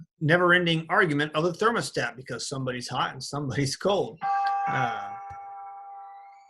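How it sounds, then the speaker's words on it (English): A household doorbell chimes with ringing, slowly decaying tones right after a person finishes talking, fading over about two seconds. "Sorry about the doorbell."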